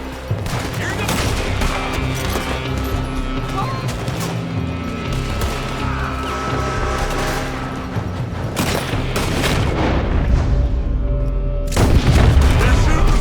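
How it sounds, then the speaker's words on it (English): Gunfire in a Red Dead Redemption 2 shootout, dense bursts of rifle and pistol shots with booming impacts over a continuous battle din, growing heavier toward the end, with shouted voices mixed in. "They're shooting from that building."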